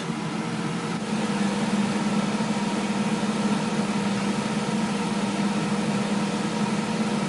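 An air fryer cooking steak and chips, giving off a steady, continuous fan whir with a low hum that holds constant, close up and alone.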